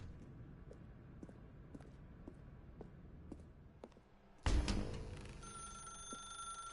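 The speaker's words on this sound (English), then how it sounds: "Now pick up the phone" A telephone bell rings in a dark room, a loud burst that cuts in sharply after a stretch of quieter, regular ticking, then sustains with a bright tonal ring.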